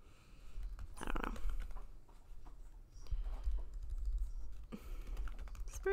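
Soft, quick typing on a computer keyboard, irregular clusters of light key clicks in a quiet room.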